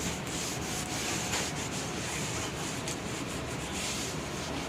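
A chemical stripper is wiped off a kitchen cabinet door with a steady, close, continuous rubbing and scrubbing sound, with no talking.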